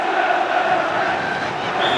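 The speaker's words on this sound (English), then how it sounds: "Everton crowd getting behind their team as it's played to the far post" Everton football crowd at a 1993/94 match against Manchester United, a sustained roar of many voices cheering at a distance, steady and dense throughout.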